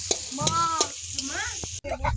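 Ghugni, a spiced pea curry, cooking in a pan for a family New Year meal, with a steady sizzle and stirring clinks throughout, overlaid by a birdlike whistling warble, loud and close.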